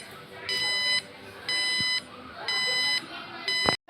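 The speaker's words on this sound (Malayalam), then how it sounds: "നമുക്ക് ലെഫ്റ്റ് ഇൻഡിക്കേറ്റർ അമർത്താം." A bicycle indicator gadget, set to its left-turn signal, gives four evenly spaced electronic beeps about one second apart, each a bright, buzzy tone lasting roughly half a second over quiet background noise.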